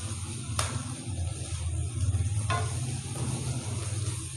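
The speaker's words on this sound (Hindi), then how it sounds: "इसको तकरीबन हम मसाले को अपने 5 मिनट तक अच्छी तरह भूनेंगे ताकि जो हमारी ये सब्ज़ियाँ अच्छी तरह गल जाएँ।" Vegetables and masala sizzle steadily in a pan while frying for a Chinese-style macaroni dish, with a continuous close hiss, a low hum underneath and two brief sharp clinks of a utensil against the pan.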